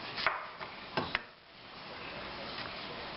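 A knife chops bok choy into bite-size pieces on a cutting board, giving a few sharp, close taps early on, then quiet.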